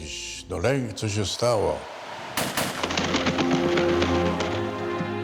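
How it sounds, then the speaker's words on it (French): A voice is heard briefly, then a loud sharp gunshot cracks out at the assassination attempt on Pope John Paul II, followed by a noisy crowd, sustained commotion and scattered sharp bangs. "j'ai entendu un coup de feu."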